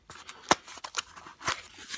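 Several sharp scissor snips cut through packaging, quick and close, with small rustles in between.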